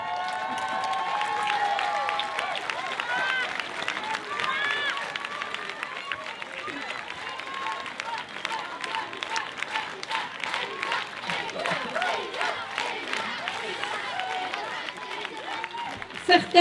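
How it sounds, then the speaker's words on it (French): An audience at a school gathering in Lauzelle applauds, a long, fairly faint spell of clapping that grows more rhythmic and distinct in the second half, with voices talking and calling over it. "je vous demandais de l'applaudir très fort pour lui envoyer ses encouragements"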